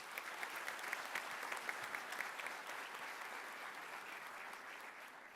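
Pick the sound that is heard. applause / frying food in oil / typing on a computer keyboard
applause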